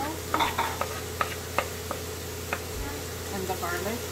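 Chopped onion and cilantro sauté in a pan, a steady low sizzle broken by sharp utensil scrapes and taps against the pan, close and moderately loud, with some speech-like sounds mixed in.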